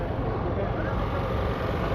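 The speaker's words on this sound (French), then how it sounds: "Alors désolé sur le bruit du moteur" A steady, loud engine rumble drones close by at a street demonstration in Geneva, a dense low continuous roar with no clear words over it.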